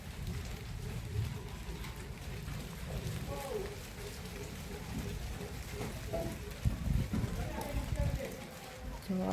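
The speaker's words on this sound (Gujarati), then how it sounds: "એમ લાગે કરા પડતા હોય ને એવું લાગે છે, એવો અવાજ એવો આવે છે." Large raindrops pelt down like hail in a strong, unseasonal storm over wheat and millet fields, a dense, continuous patter with voices talking beneath it.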